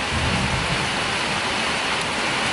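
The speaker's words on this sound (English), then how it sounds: "Beautiful, huh? Rain." Steady rain pouring down on an ocean island, a constant close hiss of drops with no one talking.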